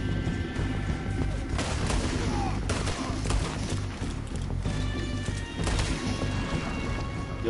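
Gunfire rings out in Red Dead Redemption 2, repeated sharp shots and bursts amid horse hooves and dense game noise, loud and continuous.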